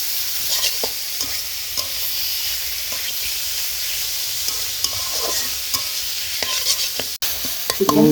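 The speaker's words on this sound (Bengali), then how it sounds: "এখন এটা আমরা চিকেনটা ভেজে নিব।" Marinated chicken fries in hot oil in a kadai, a steady loud sizzle and hiss with occasional stirring scrapes and clinks, close up and without talk.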